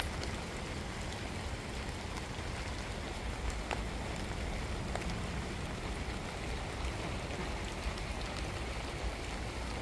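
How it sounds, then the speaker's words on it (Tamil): Heavy rain pours down in a steady, dense hiss of falling drops, fairly quiet and unbroken throughout, with no voices. "பாருங்க, நல்லா மழை பெய்யுது."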